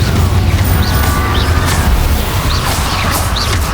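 Confringo spell explosion in Hogwarts Legacy, a loud dense blast with booming low rumble and crackling debris that stays sustained, with short bright whooshing tones flickering over it.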